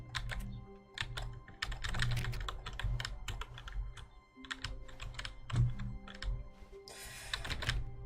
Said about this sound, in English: What little keyboard noises?